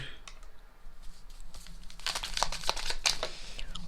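Tarot cards spilling out of a deck, a close run of papery flicks and crinkling slaps that grow busier toward the end.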